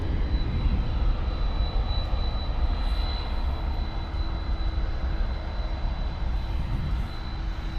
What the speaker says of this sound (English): Airbus 320. In my not so favorite livery.